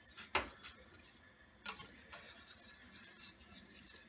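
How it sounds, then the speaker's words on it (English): Miso paste is whisked into dashi broth in a pot, giving quiet, irregular scraping and clinking strokes of a whisk against the pot, with a couple of sharper knocks between softer swishes. "Whisk the paste until it's totally mixed, with the broth, with the dashi broth."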